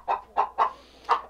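A hen in an egg box clucking after being disturbed, four loud, close, sharp clucks in an uneven rhythm with short pauses between them, alone in a quiet setting.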